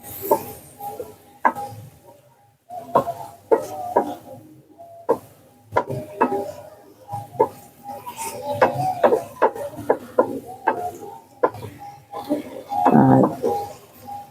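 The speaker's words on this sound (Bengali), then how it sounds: "আমরা কিন্তু নারকোলটাকে ভালো করে জাল দিয়ে নেব খুব সুন্দর করে" Grated coconut is roasted and stirred in a pan, giving irregular scraping and tapping knocks of a utensil against the pan that repeat throughout, with occasional quiet voice in the background.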